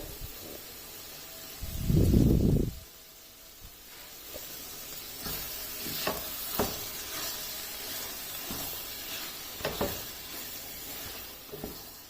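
Mutton keema with moringa and whole green chilies sizzles in a pan, with one loud burst of hissing early on, then quieter frying and several sharp stirring clatters.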